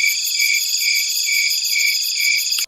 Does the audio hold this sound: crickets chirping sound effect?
yes